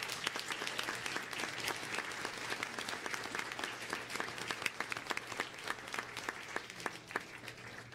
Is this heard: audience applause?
yes